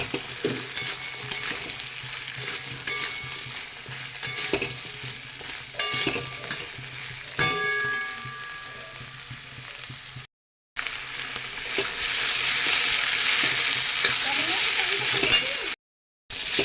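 Potatoes with onion and green chilli frying in a pan, a steady loud sizzle broken by stirring scrapes and a few metallic clinks, running almost continuously with two brief dropouts.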